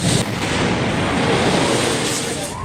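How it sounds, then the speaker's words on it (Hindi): Gas cylinders blasting in a fire send out a dense, continuous roar of booming bursts that stays loud throughout. "देखिए जरा कैसे सिलेंडर धमाका हुआ"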